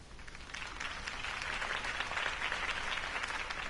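Crowd at a campaign rally for Harvey Dent breaks into sustained applause, a dense wash of many hands clapping at once, moderately loud and even, swelling slightly and holding steady.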